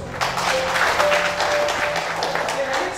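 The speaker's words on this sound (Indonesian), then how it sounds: "Mari berikan aplaus." An audience at a Christmas celebration in Sorong claps in a steady round of applause, with a voice speaking over the clapping.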